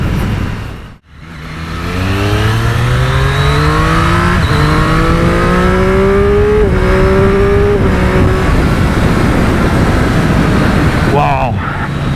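A 2023 Triumph Street Triple RS 765 motorcycle accelerates hard through the gears, its engine note climbing repeatedly in loud, close sweeps with brief dips at each shift, running continuously against heavy wind noise.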